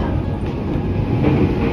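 A temporary rapid train on the Chuo Line's Tatsuno branch rumbles along the rails, a loud, continuous low roar heard from on board.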